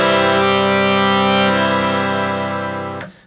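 Wooden harmonium with its slide fully open, sounding a loud, sustained, bright reedy chord that holds steady for about three seconds before cutting off abruptly, heard alone without talk.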